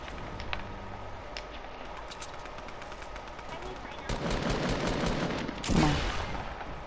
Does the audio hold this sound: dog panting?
no